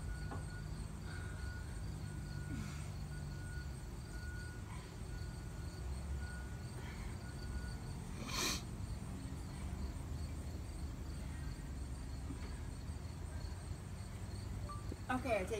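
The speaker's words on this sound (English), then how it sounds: "Crickets are chirping." Crickets chirp steadily in a field during the 2017 total solar eclipse in Kokomo, Indiana, a constant faint insect drone with a brief sharp click midway and soft background murmurs.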